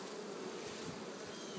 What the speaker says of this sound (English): the bees look pretty good. They're bringing in pollen today.